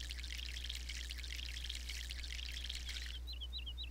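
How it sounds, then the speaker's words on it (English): Water pours steadily onto a tree in the MySims video game, a soft continuous trickling splash that ends with a few chirpy, bird-like game tones over a low hum. "but we're going to water it and bring it back."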